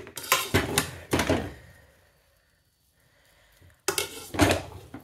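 Metal lid lifted off a pot of dum-cooked rice for dal chawal in a home kitchen, a few close clanks and scrapes of metal, a quiet pause, then another burst of lid and pot clatter.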